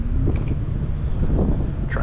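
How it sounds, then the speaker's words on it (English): Steady wind roars and buffets the microphone continuously while kayak fishing for tautog in autumn off New Jersey, a dense low rumble with no clear breaks. "the wind's blowing me the exact opposite direction"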